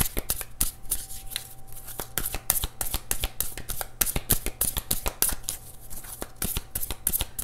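Tarot cards shuffled by hand in a steady series of crisp, riffling snaps and slaps, close and fairly loud, with no talking over them.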